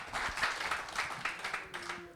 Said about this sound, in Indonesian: Kita berikan tepuk tangan dong untuk Tuhan yang luar biasa.